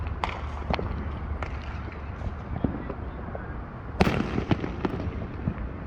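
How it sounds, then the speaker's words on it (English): Fireworks on July 4th in Katy, Texas, heard from a distance as scattered pops and crackles over a steady background rumble, with a louder burst and a cluster of crackling about two-thirds through. "Well, I got a little bit of a fireworks show here."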